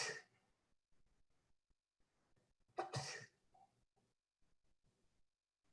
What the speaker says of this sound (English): The experiment starts. First, sneezing.